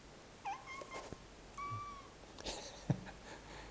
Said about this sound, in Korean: 최근에 제가 키우게 된 고양이입니다.